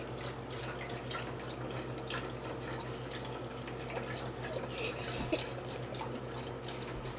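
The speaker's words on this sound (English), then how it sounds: "pour it all into the pan, as you can hear" About four cups of unsalted chicken broth poured from a carton into a cooking pan, a steady, continuous splashing and trickling of liquid, close and moderately loud, with no talking.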